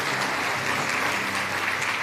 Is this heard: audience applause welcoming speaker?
yes